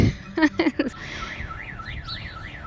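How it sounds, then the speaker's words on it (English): A car alarm wails with a rapidly warbling electronic tone, moderately distant, after a few short chirps at the start. "somebody's car alarm is going off"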